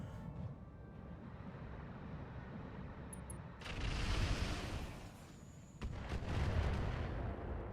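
Missiles and artillery slamming into tanks in the RogueTech mech game, heard as a low rumbling barrage that swells into two heavy roaring bursts of explosions, loud and continuous without talk.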